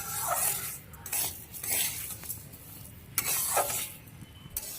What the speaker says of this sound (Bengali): ভালো করে লাল লাল করে ভেজে নেবো চালটা